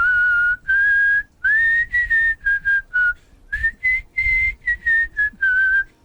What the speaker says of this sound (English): Can you do a good whistle?